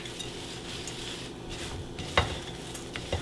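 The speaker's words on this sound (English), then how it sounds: "have to make sure that it's well stirred and everything is coated with coconut oil and honey" A spoon stirring homemade granola coated in coconut oil and honey in a pan, a soft continuous scraping and sizzle with one sharp clink of utensil on the pan partway through.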